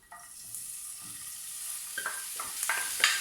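Meat goes into lightly heated oil and begins to sizzle, a soft hiss that builds gradually with a few faint clinks and crackles, fairly quiet and with no voice.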